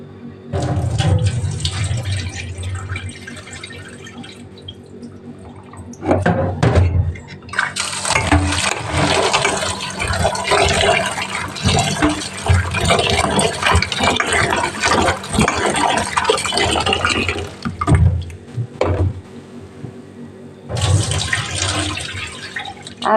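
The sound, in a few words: running water rinsing soaked kidney beans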